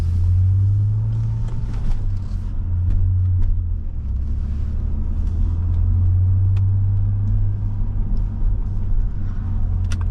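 A 2006 Saab 9-3 Aero SportCombi engine rumbles steadily at idle, deep and low with a slight growl, continuous and close, with no talking over it.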